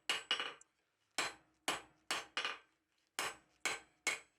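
Hammer forging a 1/2 inch square steel bar into tong blanks, nine sharp, ringing metallic strikes in irregular pairs and singles, close and loud with silent gaps between blows.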